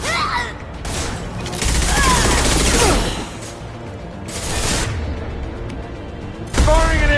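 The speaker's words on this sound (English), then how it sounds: "Firing an impact shot!" Rapid bursts of sci-fi gunfire and impacts in the video game Mass Effect 2, loud volleys recurring over several seconds amid battle effects and combat voices.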